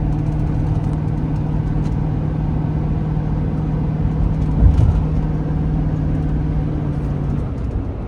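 Van engine pulling up a hill incline onto an overpass, a steady low droning hum with a faint rise in effort partway through, continuous and fairly loud inside the cab.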